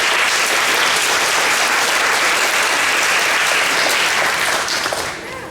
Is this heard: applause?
yes